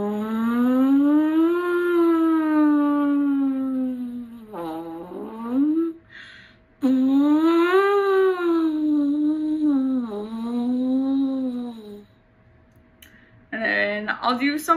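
A voice imitates a siren with long sliding hums that sweep smoothly up and down in pitch, several rising and falling glides with brief pauses between, as a French horn siren glissando exercise.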